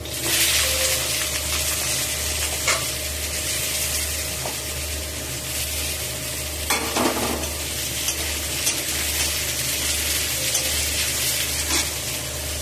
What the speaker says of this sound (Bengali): কড়াতে শুকনো লঙ্কা, জিরা, 5 ফোড়ন দিয়ে আমি আলুগুলো তুলে দিলাম।